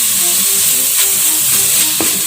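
Ginger garlic paste fries with onions in a mutton biryani pot, giving a loud, steady, close hiss and sizzle with a couple of light spoon clinks and no voices.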